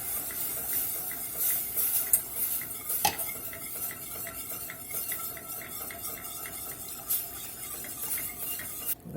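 Half and half is stirred into a garlic parmesan sauce in a pan, with soft, steady scraping and a few sharp clinks of a utensil against the pot; a faint background sizzle, no talking.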